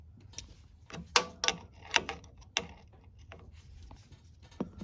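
Wrench working a 15 mm bolt on a John Deere, a few sharp metallic clicks and knocks in an uneven rhythm, close by and fairly quiet, fading to occasional taps.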